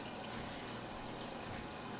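Water pours steadily into a blender for a smoothie, a soft continuous splashing stream lasting about two seconds.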